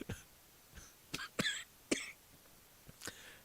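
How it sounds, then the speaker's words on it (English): A man coughs several times in short, sharp bursts spread over a few seconds, close to the microphone against a quiet background. "you made me cough"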